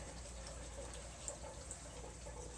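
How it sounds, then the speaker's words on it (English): A toilet tank at a campsite refills with water, a faint, steady hiss and trickle that runs evenly throughout. "You can hear the toilet filling up."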